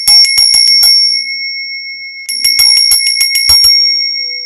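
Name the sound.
bell rung to clear the energy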